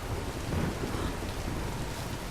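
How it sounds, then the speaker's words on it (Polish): A thunderstorm with steady heavy rain in the Tomb Raider video game, a dense, loud wash of rainfall with low rumbling throughout and no speech. "Przeczekajmy burzę!"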